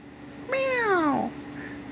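One loud, close meow with a falling pitch lasts under a second over a low background hum, with no speech.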